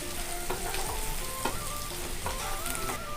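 Onions fry in a pan with a steady, close sizzle while a spatula stirs and scrapes, giving intermittent clinks and scrapes over the continuous crackle.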